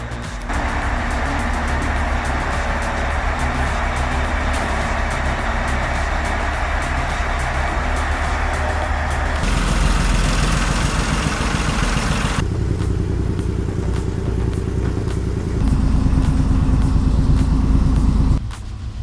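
Bulldozer engine drones steadily and loud throughout while the machine is loaded onto a trailer, its pitch and intensity shifting partway through as the throttle changes, with a heavier surge near the end.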